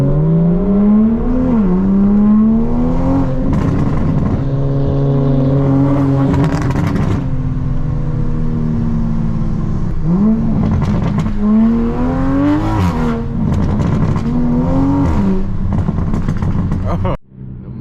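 A Ford Mustang engine revs hard at a car meet, rising and falling in long loud sweeps with sustained high-rpm stretches and brief throttle blips, people talking faintly underneath.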